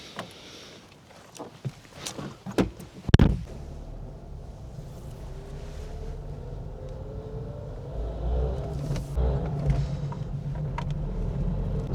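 Ford Fiesta Mk6 1.3 litre car on a test drive, a steady engine and road rumble building gradually from inside the cabin, with a few sharp clicks and thumps early on.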